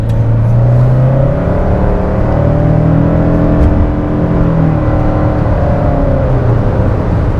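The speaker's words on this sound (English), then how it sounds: "so you could hear the engine" A 2021 Toyota Sienna XLE Hybrid minivan accelerates on the road, its engine droning loudly and steadily with rising and falling tones heard from inside the cabin.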